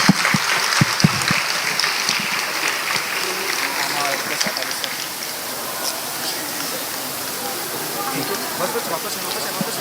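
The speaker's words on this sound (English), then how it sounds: "Please give them a huge round of applause." A large audience applauds steadily at an award ceremony for the Inspiring Japan Award in February 2020, a dense, even wash of clapping that starts loud and holds throughout.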